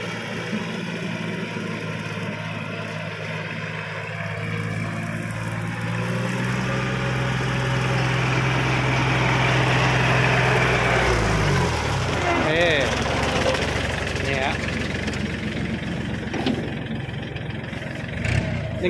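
A 2011 Kubota L3608 tractor fitted with a front blade and a mower attachment runs with a steady, close engine drone that shifts pitch partway through, while people talk over it.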